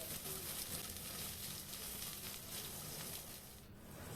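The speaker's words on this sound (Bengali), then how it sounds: "তার মধ্যে আমি বেগুনের টুকরোগুলো দিয়ে ভেজে নেব।" Eggplant pieces fry in hot oil with dry chillies, making a continuous crackling sizzle at moderate volume that holds steady throughout.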